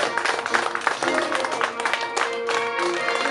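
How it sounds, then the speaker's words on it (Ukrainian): Applause at an outdoor wedding ceremony in Rivne as the bride arrives, a lively clatter of clapping from the guests over music, dense and uneven with bursts of louder claps. "Зустрічайте оплесками нареченого Шелест Любов Іванівну."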